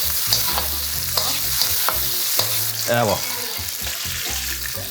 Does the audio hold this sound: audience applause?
no